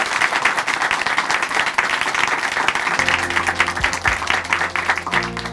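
A church congregation at Chuncheon Hanmaeum Church claps loudly and steadily after a testimony; about halfway through, sustained keyboard or organ tones rise beneath the ongoing applause.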